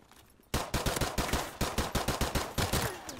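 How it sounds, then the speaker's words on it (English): Rapid pistol gunfire in a first-person shooter video game, a quick succession of about a dozen sharp, loud shots in a fast uneven rhythm following a short quiet lead-in. "There's me trying to pistol you."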